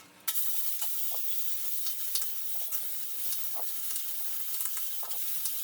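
A handheld Steamshot steam cleaner blasts steam onto pink-stained grime in a sudden loud hiss that holds steady for several seconds, with faint crackles and spatters running through it.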